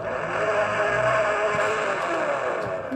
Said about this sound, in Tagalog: Bomba check lahat ng motor ko.